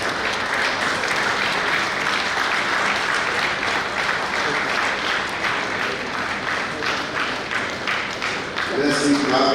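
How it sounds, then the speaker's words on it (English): Sustained, even applause and clapping from an audience at a memorial lecture, continuing strongly throughout before a voice begins speaking at the very end. "let's keep clapping"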